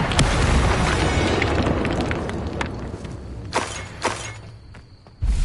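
An Incendio fire spell blasts out in Hogwarts Legacy: a loud, sustained roaring whoosh of flame with a few sharp crackling bursts, which fades toward the end before a final surge.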